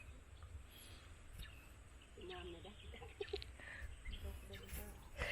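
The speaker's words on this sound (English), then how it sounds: "this is what you hear it, the birds chirping every morning." Birds, likely chickens, cluck and chirp faintly in a mountain morning setting on an off-grid Philippine farm, scattered calls over a quiet background hiss.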